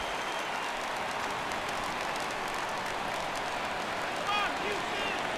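Crowd noise in a baseball stadium from the MLB 17 The Show video game, Red Sox at Astros, a steady broad roar through the whole stretch, lifting slightly near the end as the crowd rises for a full count.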